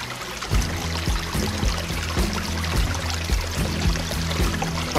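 Fresh spring water pours and trickles steadily at a holy mountain spring in Shirakami Sanchi, Akita, Japan, a close, continuous splashing stream with low rumbling throughout.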